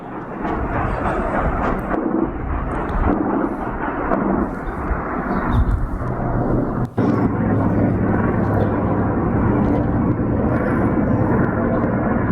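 A patrolling military helicopter drones overhead, a deep steady rumble of rotor and engine sustained throughout, loud and continuous with a brief dip partway.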